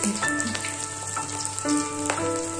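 Sun-dried beef fries in a wok of oil over medium heat, a steady close sizzle with occasional pops and faint stirring clinks, with no talk.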